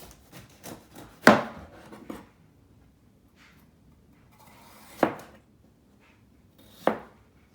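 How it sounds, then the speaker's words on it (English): Vegetables are chopped on a cutting board for a roasted vegetable recipe: a few light taps, then sharp knife strikes spaced out with quiet gaps, close and clear with no talking. "this recipe is mainly just chopping vegetables"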